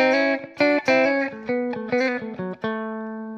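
An electric guitar plays a quick bluesy phrase of major-key double stops with slides, ending on a sustained ringing chord; clean, close and fairly loud.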